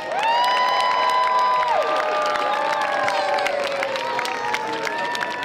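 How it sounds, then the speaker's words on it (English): Crowd at a Christmas lights parade in Junction City, Kansas cheers, whoops and applauds Santa Claus, with many high excited shouts and children's voices sweeping over continuous clapping, loud and close throughout. "How about a big round of applause for Santa Claus?"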